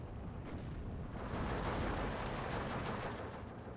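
Tank combat between a T-34-85 and a StuG IV in the strategy game Steel Division 2: a low, continuous rumble of distant cannon and battle noise, thick and steady, with no distinct single shots standing out.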